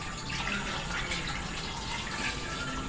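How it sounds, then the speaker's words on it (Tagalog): Broth pours into a pot of fish being cooked, a soft continuous splashing and trickling of liquid, faint and steady from start to end. "Ito na po, lalagyan ko na po ng sabaw."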